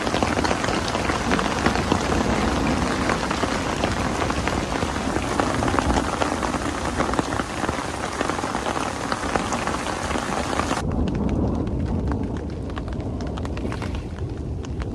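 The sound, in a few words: hailstorm with heavy rain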